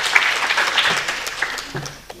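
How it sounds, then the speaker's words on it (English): An audience claps for a woman called up at a DXN Spirulina business event, a brisk scattered round of applause that fades slightly toward the end. "Now you need to clap for her because she promoted this."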